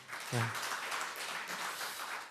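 An audience at a Korean policy forum on balanced national development claps in a continuous, moderately loud patter after a presenter's talk, with a brief voice near the start.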